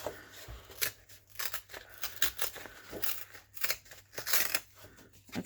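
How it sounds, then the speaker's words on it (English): Paper being torn by hand for a rough-edged window pocket in a craft project, a series of close, crisp ripping bursts and crackles in short irregular pulls with no talking. "I'm going to tear some of this off"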